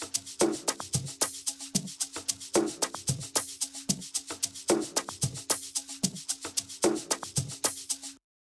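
An amapiano drum loop with crisp, rapid percussive hits and recurring low thumps in a steady syncopated groove repeats for about eight seconds before stopping abruptly.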